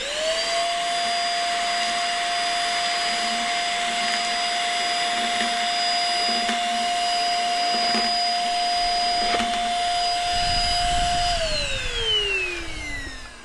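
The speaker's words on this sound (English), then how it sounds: "Let's see how many nuts we can suck up with this machine." An Ingco cordless vacuum cleaner runs with a steady high-pitched motor whine while sucking up metal nuts, which rattle in with sharp clicks at intervals, before the motor winds down near the end.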